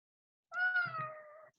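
A single drawn-out cat meow, close and fairly loud, about a second long with a clear tonal wail that slides slightly downward, alone in silence.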